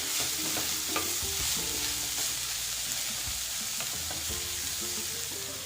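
Bitter gourd sliced for thoran sizzles steadily in a pan while a utensil scrapes and stirs it, producing irregular clinks and scrapes over continuous close frying hiss.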